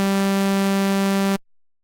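A Serum synthesizer oscillator with a hand-drawn, Juno-style retro waveform holds a single steady, buzzy sustained note, loud and harmonically rich, then stops abruptly.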